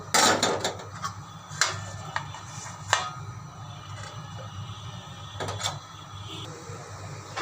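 A lid is set down on a pan of rohu fish bhuna simmering with green chillies and sliced tomato. A few sharp clacks and knocks stand out over a steady low kitchen hum.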